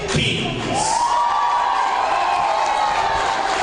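A stadium crowd cheers and whoops before a regional championship football game, a loud continuous roar of many voices that swells near the start and holds steady, with faint calls rising above it.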